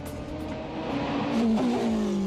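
A Formula 2 race car pulls away on the wet track at Spa during a rainy practice run. The engine note climbs steadily as it accelerates, heard at moderate distance and fairly quiet overall.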